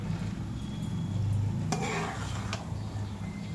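Maggi noodles with egg and vegetables stirred in a pan, a soft continuous scraping and gentle sizzle with a couple of brief metallic clinks of the utensil.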